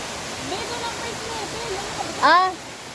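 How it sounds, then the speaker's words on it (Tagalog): Steady broadband roar of Inambakan Falls, a waterfall in Moalboal, Cebu, fills the whole clip, with a brief rising chirp-like call cutting through near the end. "Ang Inambakan Falls."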